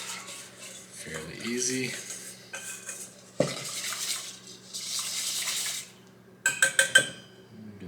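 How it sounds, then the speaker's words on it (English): A whisk scrapes and clatters against a container while stirring a mixture, with clinking bursts and a short sequence of sharp taps near the end; a voice speaks briefly over it. "You can see some of it kind of sticking to the whisk, so make sure you get that mixed up good"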